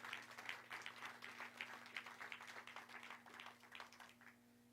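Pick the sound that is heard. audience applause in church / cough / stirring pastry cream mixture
audience applause in church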